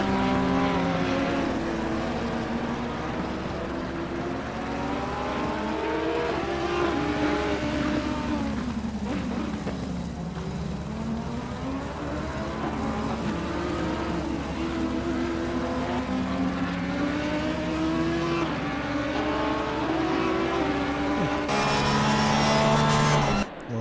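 Porsche race cars in the racing game Assetto Corsa Competizione at a German round, engines howling steadily with rising and falling pitch as the cars brake, downshift and accelerate through corners, loud and continuous with a faint voice beneath.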